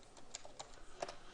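A handful of soft, light keystrokes on a computer keyboard, spaced irregularly across a brief, quiet moment with no talking.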